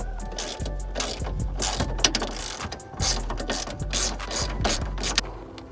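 A ratchet wrench loosens the bolts holding the headlight cover on a 2008-2012 Chevy Malibu, giving rapid, loud clicking bursts that start and stop repeatedly up close, with no talking.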